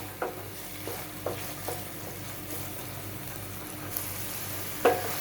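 Tomatoes sauté in oil for a Malvani black peas curry, with a low, steady sizzle and a handful of spatula scrapes at irregular intervals.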